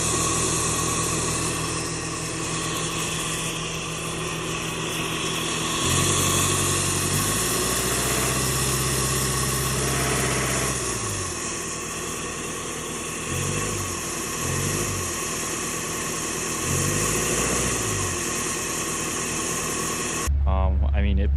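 A Bobcat T750 skid steer with a suspected muffler or turbo fault runs steadily, its engine droning and shifting pitch several times, with a person talking over it throughout.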